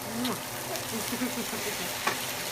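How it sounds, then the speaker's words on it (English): Kale cooking down in a pan, a steady soft sizzle and crackle of frying greens running throughout at close range, with faint voice-like sounds in the background. "the kale is cooking down nicely"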